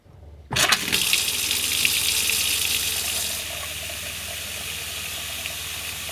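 A cold water tap in a Forest River Wolf Pack camper bursts on and runs with pink antifreeze, a loud, steady rushing gush that settles slightly softer after a few seconds.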